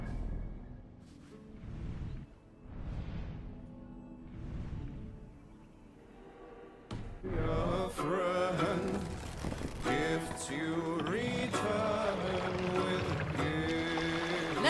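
Oars working a Viking longboat heading out to sea in Assassin's Creed Valhalla, soft rhythmic splashes and water swells at first, then buried under a loud swelling musical score for the rest.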